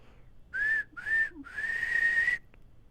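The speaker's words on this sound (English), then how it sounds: "she got into a terrible rage and blew 3 times upon her silver whistle" Three shrill blasts on a silver whistle, two short and one long, sound alone and clear against a quiet background.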